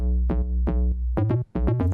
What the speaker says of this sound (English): Step 2, I took bass spacewalk from my pack Orbital